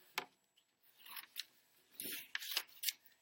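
Scissors snip through paper while a template shape is cut out for a grade-school craft, a quick series of close, crisp cuts with short pauses between them and no talking.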